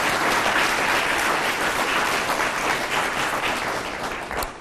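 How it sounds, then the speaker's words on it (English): An audience at a drug court graduation gives steady, dense applause that fills the room, then tapers slightly near the end. "let's give Miss Susan another round of applause for that powerful message"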